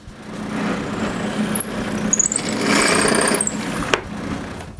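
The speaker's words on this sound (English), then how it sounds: "Then I cut and drill the piece which will hold the fence to the base." A power tool whirs and buzzes steadily, cutting and drilling a wooden piece for a table saw sliding table fence, for several seconds, rising and falling, then stops with a sharp click.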